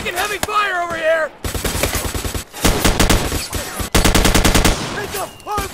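Gunfire in the plastic toy-soldier war video game Army Men: Plastic Apocalypse, with rapid machine-gun bursts in several loud clusters separated by short gaps, preceded by a brief shouted voice.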